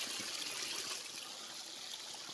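Water trickles steadily down a small perennial waterfall hidden in a hilly valley, falling into a little pool below, a continuous close splashing hiss with no voices.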